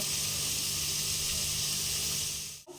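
Broken wheat (dalia) frying in a pan gives off a steady, close sizzling hiss that holds evenly for a few seconds, then dips briefly at the very end.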